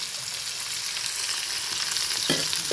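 Pork frying in a pan, a steady dense sizzle and crackle with a brief louder spatter near the end.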